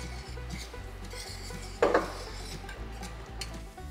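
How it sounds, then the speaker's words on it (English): A whisk rubs and clinks against a bowl while mixing vanilla into a raw milk custard, soft scraping strokes with one sharper knock partway through, close and quiet over a low background hum. "I'm just going to use everything that I have and whisk this all in"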